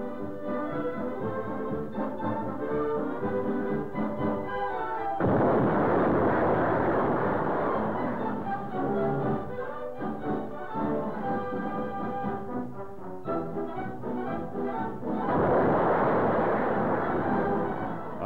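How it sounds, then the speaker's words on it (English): Soviet Red Fleet warships firing depth bombs in the Baltic in 1941 sound as dull, heavy rumbling bursts and a roaring wash, set among a loud orchestral newsreel score of old, band-limited quality. "Soviet ships fire depth bombs and find their fatal mark."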